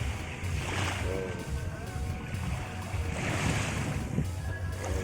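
Sea waves wash and roll continuously nearby on a beach in Barangay Moning, with gusty wind buffeting the microphone and faint voices in the background.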